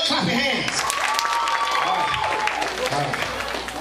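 A party crowd at a New Year's Eve event claps along to 'If You're Happy and You Know It', a dense burst of applause mixed with voices, cheering and music, loud and continuous.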